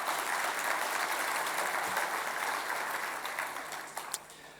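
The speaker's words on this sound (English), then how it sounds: "a round of applause to the hardworking SMF team" At the opening of a manufacturing conference, a large audience applauds the organising team, the clapping quiet and somewhat distant, holding evenly and then gradually thinning and fading near the end.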